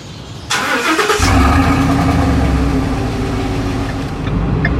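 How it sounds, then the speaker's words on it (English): A Ford pickup truck engine starts and settles into a loud, steady rumble with a deep low growl, the exhaust droning close by without talk, in New York City. "Now let's hear this exhaust."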